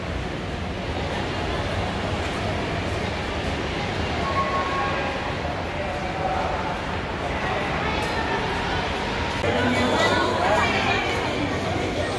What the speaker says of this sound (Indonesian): sekarang kita sudah sampai di stasiun Lebak Bulus